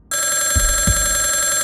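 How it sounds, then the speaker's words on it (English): A telephone rings loudly and close with a continuous electronic bell tone, interrupted by a couple of low thumps. "the phone rang"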